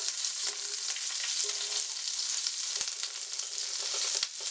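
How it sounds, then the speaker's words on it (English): Unsalted butter melts in hot oil for a honey Cajun salmon sauce, giving a steady, dense sizzling hiss with a couple of faint clicks, close and continuous without talking. "to the oil we're adding 3 tablespoons of unsalted butter. Melt that into the sauce."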